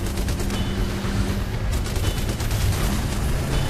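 Gunfire in the PC shooter Terminator Salvation: dense, continuous bursts of automatic weapons fire and booming shots, loud and close, filling the whole stretch without a break.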